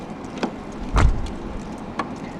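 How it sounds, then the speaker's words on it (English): The self-closing door of a 1995 Mercedes-Benz W140 S-Class S 320 pulls itself shut with a soft mechanical thud, close and alone, with small clicks before and after. "This W140 S-Class also does have a self-closing door function"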